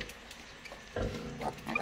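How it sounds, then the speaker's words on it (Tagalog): A mother pig that has just given birth grunts in low, rough bursts, growing louder in the second half of the short stretch amid farm background noise. "Inahing baboy yan."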